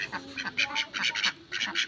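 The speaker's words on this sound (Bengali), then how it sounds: "হাঁস" Village ducks quack in quick, nasal bursts, several calls close together and fairly near, with faint background noise.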